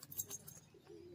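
A male Giribaz pigeon coos softly in a few low, throaty pulses, faint and close, with slight rustling behind.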